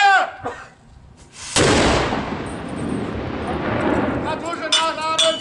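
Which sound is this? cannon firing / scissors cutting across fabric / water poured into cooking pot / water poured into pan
cannon firing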